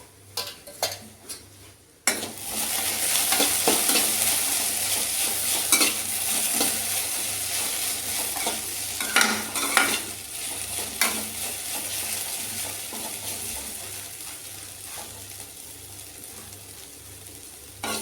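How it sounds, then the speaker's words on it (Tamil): Food stirred in a hot pan to keep it from sticking: steady sizzling frying hiss throughout, with close scraping and clinking of a spoon against the pan in irregular strokes, no voices. "இடையில எடுத்து கிளறி விட்டுக்குவோம், பிடிச்சிடாமல் இருக்கிறதுக்காக"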